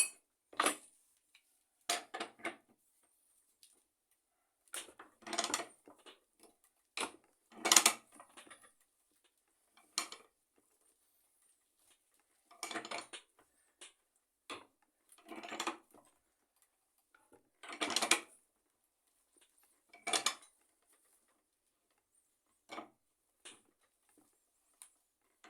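A pipe wrench grips and turns a 1 1/2 inch pipe, giving a series of separate metallic clicks and scrapes spaced unevenly over the quiet, with several louder ratcheting bursts.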